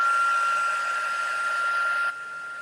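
A heat tool blows steadily while heat-setting embossing powder on a stamped card, a continuous loud whooshing hiss with a whine that drops slightly in pitch near the end.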